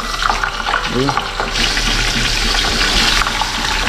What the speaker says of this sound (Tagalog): Dalawa po muna yung ating iluluto. Magprito muna tayo.